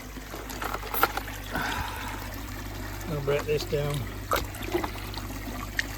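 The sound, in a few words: water from a garden hose topping up a pond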